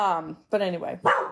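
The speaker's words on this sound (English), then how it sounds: "that's my dog" A dog barks close by in a home, three loud yappy barks in quick succession while someone speaks over them.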